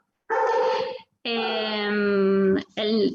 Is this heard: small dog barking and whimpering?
yes